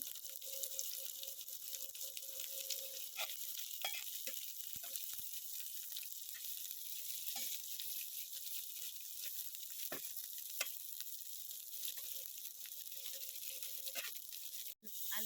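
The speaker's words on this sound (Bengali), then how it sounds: "একটু লাল লাল করে ভেজে নেব যেন আমরা পেঁয়াজটা দিব" Onions frying in hot oil in a home kitchen in Bangladesh, a constant bright close sizzle running throughout with occasional faint clicks and drips.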